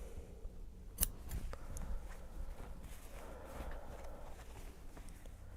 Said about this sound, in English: when I'm trimming down seam allowances, we're going to swoop in